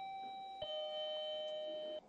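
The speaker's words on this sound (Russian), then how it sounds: "После этого вы будете оповещены звонком о прибытии гостей." A wireless doorbell chime rings out alone, a clear two-tone electronic ding-dong with a sustained, steady ringing tone that cuts off abruptly at the end.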